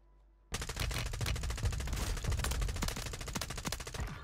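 Loud, rapid automatic gunfire from an M4 in the video game Warzone 3 bursts in after a half-second lull and keeps up dense, overlapping volleys for the rest of the clip.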